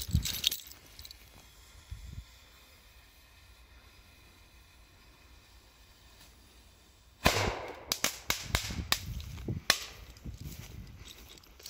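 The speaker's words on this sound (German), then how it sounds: "Mal schauen, wie doll es knallt." A firecracker inside a loudspeaker cabinet: a brief muffled pop at first, then after a quiet pause a burst of sharp crackles and rattling bangs close by, dying away quickly.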